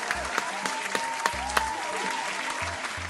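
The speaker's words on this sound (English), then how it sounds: "Round of applause for Kenny." Applause during a virtual pub quiz, a few distinct sharp claps standing out over a thin, steady patter, with low thumps underneath and no speech.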